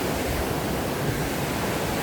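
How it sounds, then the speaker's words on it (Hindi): Water from a small waterfall on a stream near a village rushes in a steady broadband roar, close and constant with no voices. "मस्त छोटे से वाटरफॉल है"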